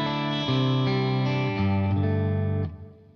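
Distorted electric guitar runs through an amp modeler with an EQ boost at 120 Hz for a thicker low end. It plays a few sustained, chord-like notes at close, even loudness and then cuts off into a short decay, with no speech.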